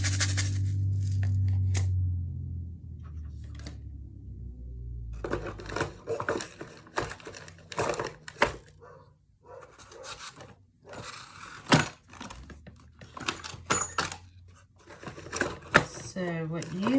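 An elderly dog of about 12 moves around in the background, making scattered clicks, taps, scrapes and jangling rattles over a steady low hum, fairly close and irregular throughout.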